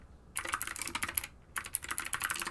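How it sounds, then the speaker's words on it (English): Typing on a computer keyboard during a design software session, two quick bursts of rapid clicking keystrokes separated by a short pause, close and crisp with no talk. "Just typing this so I don't get lost."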